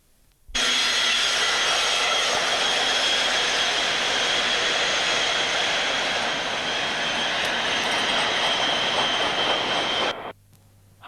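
A loaded coal train climbs a bank on an S-bend near a steelworks complex, its steady heavy roar loud and continuous for about ten seconds, with a faint wheel squeal, before cutting away.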